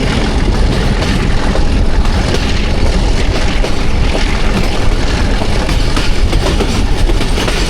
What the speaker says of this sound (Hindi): शाह जी ने दोबारा एक्सीलरेशन बढ़ा दी है